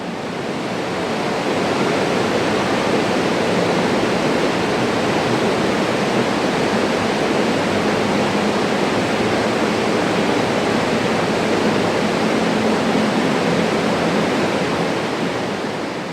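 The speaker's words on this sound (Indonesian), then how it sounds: "Ini aku sedikit mampir ke sungai yang ada di Kota Bogor. Kalau nggak salah ini Sungai Ciliwung ya teman-teman." The Ciliwung river flows through the city of Bogor as a steady, broadband rush of running water that fades in over the first second and then holds constant, full and close, with no voices.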